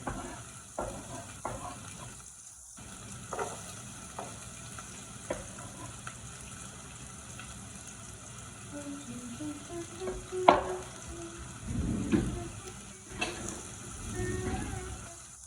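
Garlic and onion fry in a pan for a potato vegetable curry, a steady close sizzle with intermittent stirring scrapes and a louder burst of frying near the end, with occasional background noise.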